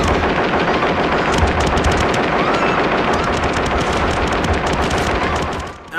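Sustained machine gun fire from the RoboCop film, a loud, dense, continuous burst of rapid shots running for several seconds before briefly dropping off at the end.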